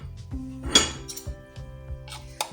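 Beef is mixed by hand in a bowl with lemon, garlic, ginger, salt, chili and spices, giving scattered light clinks, taps and soft scraping in an irregular rhythm, close by with no talk.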